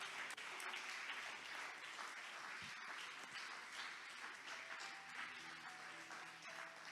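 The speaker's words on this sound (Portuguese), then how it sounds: "Aplauda o Senhor bem forte" A church congregation applauds steadily and energetically at a moderate distance, a dense wash of many hands clapping that holds for several seconds with no speech over it.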